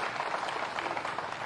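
Soft, steady applause from a crowd welcoming a leader at an Agniveer aspirants' gathering in Sambalpur, a continuous dense patter of clapping heard at a distance without speech.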